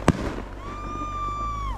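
A New Year firework goes off with one sharp, loud bang close by, followed by a fizzing whistle-like crackle that trails off, with no talk.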